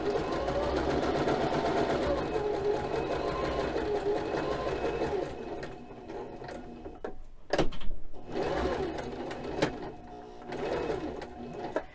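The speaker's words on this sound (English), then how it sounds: "You always want to backstitch at the beginning and end of your stitch." A sewing machine backstitches with a close, steady mechanical whir and rapid needle pulses. It stops abruptly with a clunk partway through, then starts again in shorter bursts.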